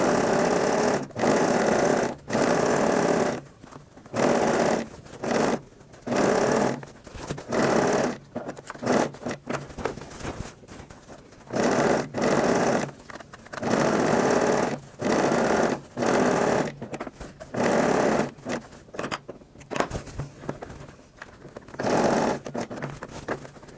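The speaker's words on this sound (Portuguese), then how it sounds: "vou passar uma costura em toda a volta pra gente já colocar o viés" A sewing machine runs stitching around the edge of a handbag, in loud close bursts of rapid whirring separated by short pauses, with no talk.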